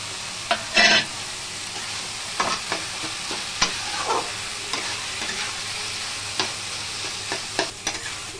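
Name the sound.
fried lentil dumplings (bori) added and stirred in a frying pan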